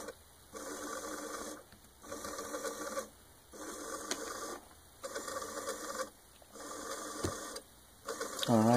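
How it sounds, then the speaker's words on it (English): A small electric motor driven by an L298N motor controller with a Parallax Propeller microcontroller, whirring in repeated bursts of about a second each separated by short pauses, close and mechanical, with no talking. "Motor controller ramp up."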